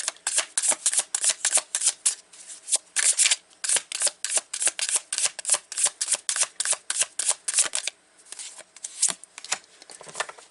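Tarot cards are shuffled by hand in quick, rhythmic riffling bursts that run steadily for about ten seconds, close and clear with no voices.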